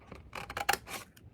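Scissors cutting paper while a box is made: a short burst of a few quick crisp snips, close and quiet, with no voices.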